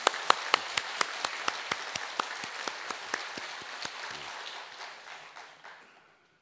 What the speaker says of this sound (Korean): 우리 찬양대에서 격려의 박수 한번 드리겠습니다.